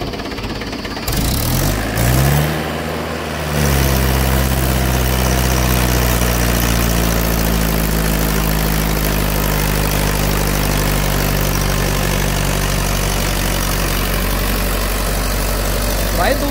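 A Mahindra 575DI tractor engine working a 7-foot Shaktiman rotavator, a loud, steady diesel drone. After a brief change in the opening seconds, the engine settles into a long, even pull.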